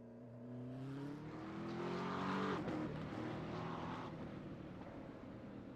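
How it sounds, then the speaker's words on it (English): V8 race cars in a racing simulator game at the Algarve circuit pulling away behind a safety car, engines droning and rising in pitch as they accelerate, then fading into a steadier distant roar, faint and alone. "Safety car pulling away from the field."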